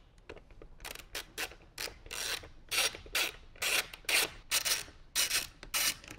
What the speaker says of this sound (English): remove the 3/8 Allen head bolts on the speaker pod